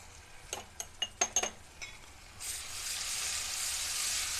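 Onions browned in a frying pan with a spoonful of ginger-garlic paste added: a few sharp spoon clinks against the pan, then a steady, close sizzle that rises and holds to the end.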